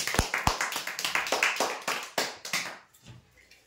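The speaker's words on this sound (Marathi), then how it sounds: "जोरदार टाळ्या होत्या यासाठी।" Scattered hand clapping from a crowd at a weekly prize draw event, opening with a few sharp claps and then settling into an uneven patter that fades out by the end.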